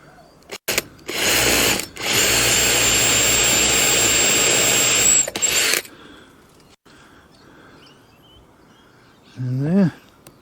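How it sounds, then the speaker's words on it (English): A power drill boring into a wooden board while making an arbor, a loud close whine held for several seconds after a short burst, then a quieter stretch with brief noises. "I have to drill left-handed here"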